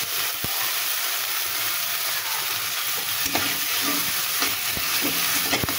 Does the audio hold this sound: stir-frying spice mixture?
yes